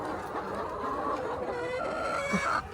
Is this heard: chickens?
yes